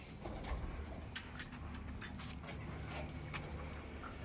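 White bar pigeons of the Golay breed cooing in a loft, a steady low murmur of soft overlapping coos with a few sharper bird calls, close and continuous.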